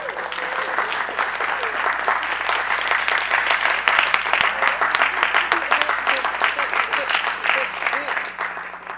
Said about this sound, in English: Y'all still haven't given Mr. Yahuwah a hand clap.